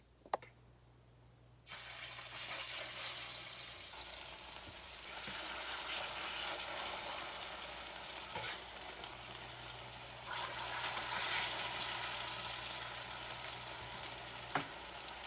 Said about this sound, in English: Our oil's hot, so now we're going to go ahead and start adding them to our skillet